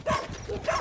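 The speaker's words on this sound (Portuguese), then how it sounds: "Ali é um cachorro." A dog gives two short barks at night, one at each end of a brief moment, at a moderate distance.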